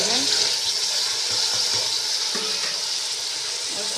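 Potatoes and eggplant hiss in hot tempered oil with a steady bright sizzle, broken by a few soft stirring knocks, close and even throughout.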